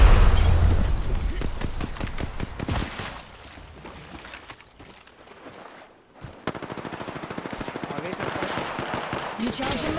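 Sustained rapid automatic gunfire from bots in the Apex Legends video game, loud and continuous at first, dipping briefly, then resuming as a steady machine-gun rattle.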